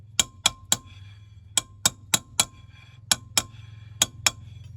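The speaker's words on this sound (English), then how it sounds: "Use the old hammer, put her back on." Sharp metallic taps from a hammer driving a wheel back on a Volkswagen Beetle, in small clusters of two or three, ringing briefly, struck close by with short pauses between groups.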